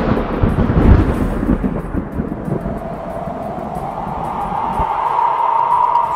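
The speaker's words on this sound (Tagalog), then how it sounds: "Sunod ng kulog." Thunder rolls as a sound effect in a Tagalog horror audio story, a deep rumbling boom that fades into a sustained windy drone, heard alone without speech.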